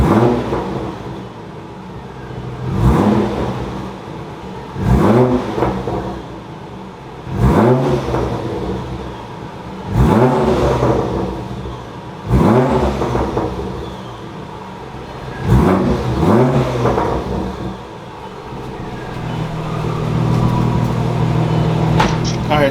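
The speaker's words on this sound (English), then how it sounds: "You don't have to go super high. Just a few revs." An Audi B5 S4 engine revved in a garage with about six short throttle blips kept under 3,000 RPM, each rising and falling sharply over a steady idle, with light voices talking between them.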